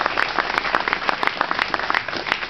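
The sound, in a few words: applause for the firefighters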